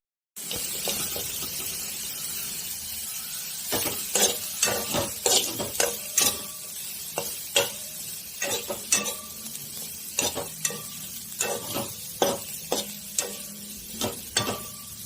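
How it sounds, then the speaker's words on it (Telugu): Steady frying sizzle in a pan with repeated sharp scraping and stirring clicks, close and moderately quiet, no voices. "ఇప్పుడు ఈ ఫిష్ని ఆరినాక కొంచెం కొద్దిగా వేయించాలన్నమాట"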